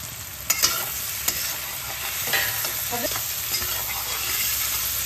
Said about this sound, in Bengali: এবার এর মধ্যে দেবো ভাজা উচ্ছে আর বেগুন,